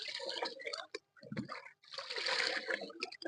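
Homemade liquid fertilizer for a bottle gourd vine is stirred into about three litres of water in a bucket, giving close sloshing and splashing in short bursts, with a voice talking over it.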